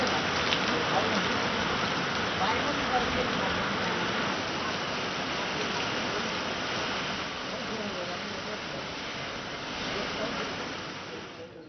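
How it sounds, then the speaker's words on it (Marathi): Heavy rain pours over Nandgaon town near Nashik, a dense steady hiss of downpour at even loudness, with no voices heard. "नाशिकच्या नांदगाव शहर आणि परिसरातही जोरदार पावसाने हजेरी लावली."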